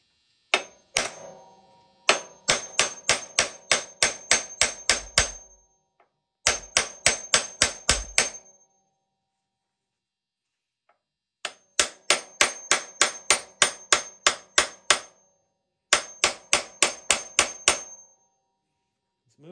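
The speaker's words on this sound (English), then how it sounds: "I'm gonna have to beat on that a little more." A rusted pin is hammered out of the frame of a 1975 Harley-Davidson SX250 motorcycle: close, loud metallic blows fall in rapid, even bursts of eight to ten strikes, separated by short pauses.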